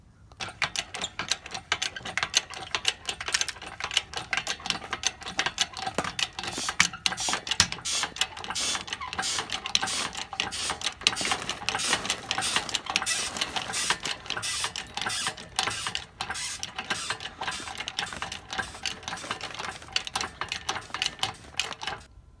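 An engine hoist lifts a Honda Civic engine in a home garage with continuous rapid mechanical clicking and ratcheting that stays close and fairly loud throughout, with no talking.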